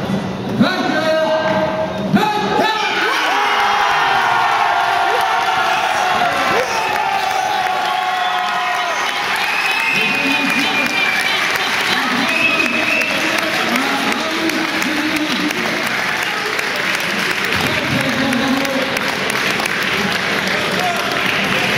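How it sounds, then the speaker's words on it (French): Crowd at a boxing match bursts into sustained applause and cheering for the two boxers, loud and dense, with an announcer's voice over it at the start and scattered whoops throughout. "Et je vous demanderai d'applaudir comme il se doit les deux boxeurs."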